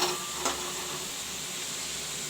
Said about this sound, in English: first of all, I am frying the potatoes here